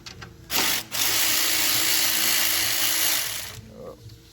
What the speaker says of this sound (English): So I'm gonna use a ratchet gun to take that bolt off.